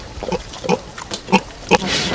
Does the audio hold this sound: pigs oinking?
yes